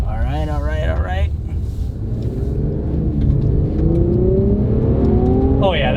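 A 400-horsepower Infiniti Q60 Red Sport 400 in full sport mode pulls hard, its engine note rising steadily in pitch as it accelerates, loud and close from inside the cabin, with a voice exclaiming briefly at the start.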